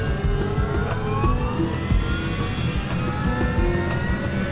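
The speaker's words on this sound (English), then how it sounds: "he records the sound of the engines from inside the cockpit" Jet engines of an airliner spooling up, heard from inside the cockpit: a steady roar with rising whine tones and regular clicking ticks, moderately loud and without speech.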